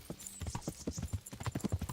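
Horse hooves clip-clopping in the medieval video game Kingdom Come: Deliverance, a quick, steady trot of close, moderately loud hoofbeats with a faint snort.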